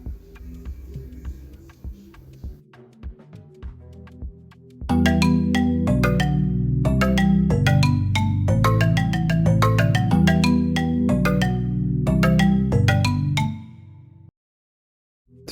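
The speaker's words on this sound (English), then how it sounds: "So the E piano sounds like this." A quiet ticking, plucky intro gives way to a Crystal EP electric piano in Morphin playing bright, sustained chords in a repeating rhythmic pattern, fairly loud, then cutting off abruptly near the end.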